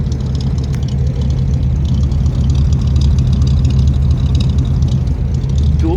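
A 1951 Mercury with dual exhaust idles steadily and close by, a continuous low rumble with no talk over it for the whole stretch.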